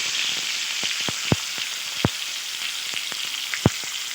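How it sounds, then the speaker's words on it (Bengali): Nigella seeds and chopped tomato frying in hot oil, a continuous close sizzle broken by sharp spatula knocks and scrapes against the pan as the mix is stirred, with no voices. "ওই তেলে দিয়ে দিচ্ছি কালো জিরে ফোড়ন টুকরো করে রাখা টমেটো দিয়ে কিছুক্ষণ নাড়াচাড়া করে"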